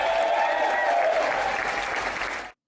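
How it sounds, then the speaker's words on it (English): A crowd at a breakfast launch event for the Let Alberta Decide campaign gives sustained, dense applause that holds steady, then cuts off abruptly. "judging by the applause"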